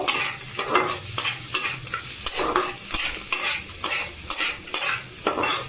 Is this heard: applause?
no